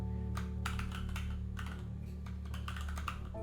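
Rapid computer keyboard typing while writing C code for a C# DLL, close and continuous clacking keystrokes in quick irregular bursts over a low steady hum.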